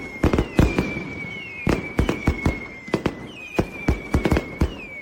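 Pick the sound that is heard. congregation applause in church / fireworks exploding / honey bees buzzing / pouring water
fireworks exploding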